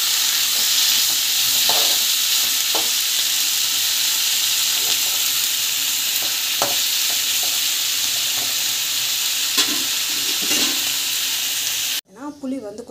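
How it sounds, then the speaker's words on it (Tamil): Masala frying in hot oil in a pan for a fish curry, a continuous loud sizzle with intermittent spatula scrapes and stirring, close throughout, ending abruptly near the close. "நல்லா வந்து வதக்கிட்டுக்கோங்க. நல்லா வதங்கணும்."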